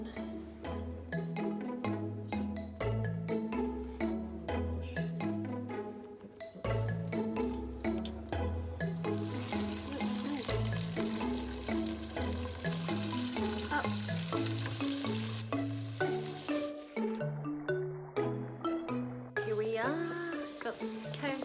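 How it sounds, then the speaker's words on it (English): Spicy KFC-style chicken frying in a pan, the sizzle largely buried under loud music, with a voice briefly talking over it. "Got KFC cooking."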